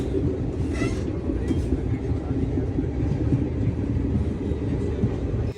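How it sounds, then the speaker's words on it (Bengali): Inside a local passenger train running from Banihal to Srinagar in snowy Kashmir winter, a steady rumble and rattle of the carriage rolling along the track, loud and continuous throughout. "এই যে এই ট্রেনটা লোকাল ট্রেন, এটা একটা বানিহাল থেকে শ্রীনগর পর্যন্ত এসে আবার রিটার্ন করে।"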